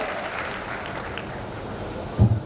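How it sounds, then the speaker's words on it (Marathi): Audience at a large community gathering clapping, a broad even wash of applause that holds steady, with a few louder thumps near the end. "एकदा त्याच्यासाठी जोरात टाळ्या वाजूया"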